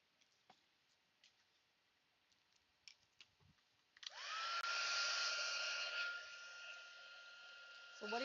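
A heat tool sets ink on handmade Christmas cards: after a few faint clicks and handling noises, a loud, steady blowing whir switches on and runs continuously to the end, dropping slightly in pitch partway.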